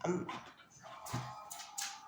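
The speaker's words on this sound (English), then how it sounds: "it's my dog, guys" A pet dog named King barks and yips indoors, a few sharp bursts with a short whimpering tone between them, heard faint and somewhat distant with no speech over it.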